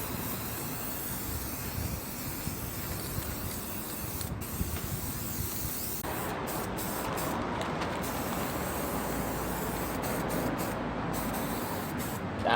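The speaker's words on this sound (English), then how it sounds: "Once we get our box completely sprayed with black" Spray paint hisses continuously onto a wooden box as it is coated black, a steady close aerosol rush with a few brief breaks near the end, and no talking.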